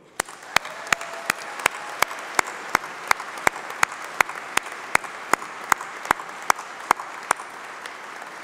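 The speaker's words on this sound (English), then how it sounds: "let's have a round of applause, a really big round of applause for all those special people, your family, your friends, and your tutors" Applause at a UCLan university graduation ceremony in December, a large audience clapping steadily and continuously with sharp individual claps standing out near the front, no talk over it.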